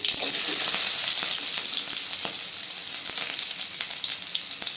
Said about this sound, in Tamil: சட்டி சூடாயிருச்சுங்க எண்ணெய் ஊற்றிக்கலாம் கடுகு சேர்த்துக்கலாங்க வெங்காயம்